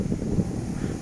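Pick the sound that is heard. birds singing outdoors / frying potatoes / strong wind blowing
strong wind blowing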